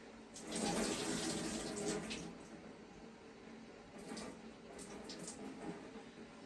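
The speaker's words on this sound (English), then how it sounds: "can you hear all the water come out of this?" Water pours out of a wet tray of dyed yarn into a sink, a steady gush that is strongest early on and then continues as a softer running trickle, close by and fairly quiet.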